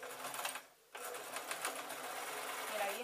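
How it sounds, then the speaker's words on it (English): Sewing machine running steadily as it stitches the elastic waistband of a toddler's shorts, a continuous close whir that pauses briefly before resuming, with faint talk in the background. "And I'm going to give this a couple of good stitches."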